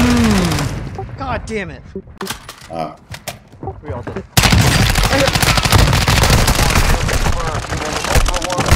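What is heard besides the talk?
gunfire in video game Call of Duty DMZ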